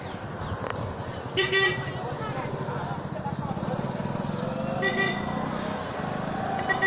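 Road traffic just outside the Nageshwar Jyotirlinga temple gate in Maharashtra: continuous engine drone from passing motorbikes and vehicles with brief horn-like tones, while people talk over it.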